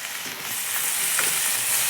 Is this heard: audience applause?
no